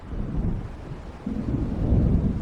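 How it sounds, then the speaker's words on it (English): Deep, rolling thunder from an approaching storm in the video game Alan Wake Remastered, a low rumble that swells partway through and grows heavier toward the end, alone without speech. "It seems there's a storm coming."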